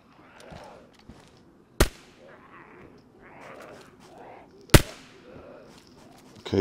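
Gunfire in the video game DayZ, two sharp isolated cracks a few seconds apart, with quieter rustling and movement sounds between them.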